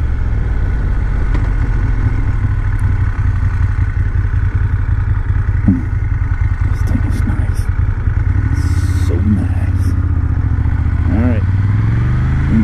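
A motorcycle engine rumbles steadily at close range while riding, with a constant low drone and faint clattering throughout.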